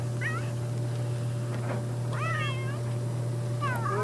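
A cat in The Sims 3 meows several times in short, rising calls spread across a few seconds, over a steady low background hum.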